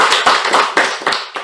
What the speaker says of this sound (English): You also deserve a huge round of applause.